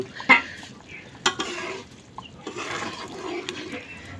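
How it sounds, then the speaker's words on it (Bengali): Black gram lentils being sautéed with mixed fish in a pan, a low sizzling hiss with stirring scrapes and a few sharp knocks of the utensil, close and moderately loud, no talking. "এই কষে লোয়া মাছগুলো এর সাথে দিয়ে আবার কিছুক্ষণ কষে নেব"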